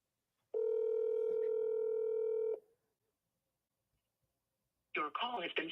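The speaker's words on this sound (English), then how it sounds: "but this time it's ringing." A single long ring tone sounds clearly over the phone line for about two seconds, followed by silence and then a voice speaking.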